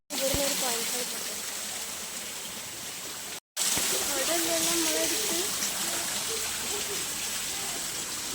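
Light rain falls as a steady, even hiss close by, continuing with one brief break near the middle, and people can be heard talking over it.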